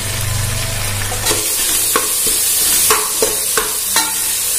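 Fresh mint and onions frying in a pan, a constant close sizzle broken by a regular series of sharp scraping strokes as the mixture is stirred, with no voices.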